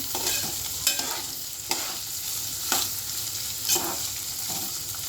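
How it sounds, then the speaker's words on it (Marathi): Ivy gourd (tondli) stir-fried in a pan over medium heat, with a steady sizzle under four spaced, sharp spatula scrapes about a second apart, close and with no talking. "आता हे आपण परतून घेऊ मग मीडियम गॅस करायचा आहे मी परतून घ्यायचं सारखं परत परतायचं"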